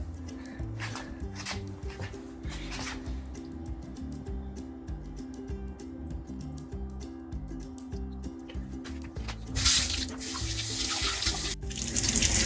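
Running water from a kitchen tap splashes into a sink while squid is rinsed and cleaned, a steady close rush that swells louder near the end.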